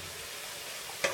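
Vegetables frying in a pan for a vegetarian shepherd's pie, a soft steady sizzle ending in a brief clink of a utensil, no talk.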